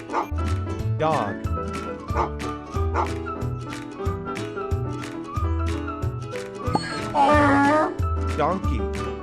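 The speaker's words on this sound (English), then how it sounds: "Dog." A farm dog barks and yips repeatedly with a brief whimper, loud and close, over a steady rhythmic backing.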